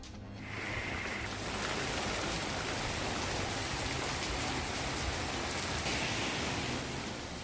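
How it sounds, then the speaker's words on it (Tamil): Heavy rain pours down in a thunderstorm with lightning over Gudalur and Ooty in the Nilgiris district, a steady, dense wash of falling water that stays loud and unbroken throughout. "நீலகிரி மாவட்டம் கூடலூர், உதகை பகுதிகளில் இடி மின்னலுடன் கொட்டிய பலத்த மழை."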